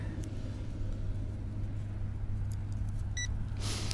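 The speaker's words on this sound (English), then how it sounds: "All right, we got a beep." A single short electronic calibration beep from a Holy Stone HS360 drone sounds late, over a steady low engine-like hum; no one speaks.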